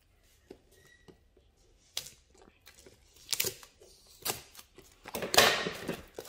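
Cutting open a Pokémon Shining Fates card pack: scattered soft snips and crinkles of foil packaging close up, building into louder rustling toward the end.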